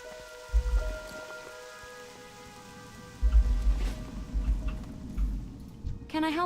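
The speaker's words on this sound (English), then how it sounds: "Still a rainy day here in Elwyn." Steady rain falls in the Elwynn Forest zone of World of Warcraft Classic, a continuous soft patter with low rumbling swells, layered over sustained game music tones throughout.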